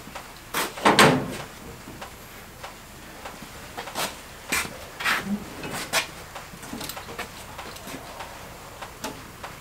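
Metal drawers are slid out of a Harbor Freight ten-drawer tool cart, a series of close scraping, clunking slides and knocks at an irregular pace over about ten seconds, without talk.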